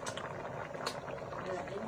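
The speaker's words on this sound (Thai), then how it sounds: "หม้อแกงก็เริ่มเดือดแล้วนะ" A pot of southern Thai sour curry coming to a boil gives a steady, close bubbling and simmering hiss throughout, with a voice talking over it.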